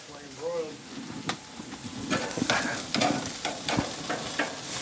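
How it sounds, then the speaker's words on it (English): A steak sears in hot bacon grease with rosemary and steak seasoning, a steady loud sizzle broken by sharp crackles and pops close by, with no talk. "We'll use that to our advantage here. I was worried we wouldn't get a sear."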